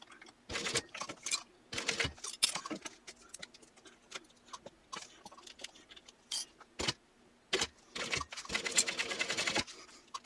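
A home sewing machine stitches through the thick seam of a fabric clutch in short bursts, with pauses between runs and a longer steady run near the end, close and fairly quiet.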